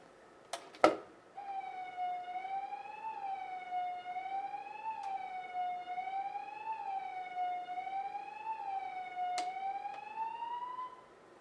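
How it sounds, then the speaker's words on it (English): A fire call siren at the Missoula smokejumper base wails in a slow rising and falling pattern, steady and fairly distant, after a few sharp knocks at the start. "I'm going to sound the siren for you so you can hear what it sounds like when we get a fire call."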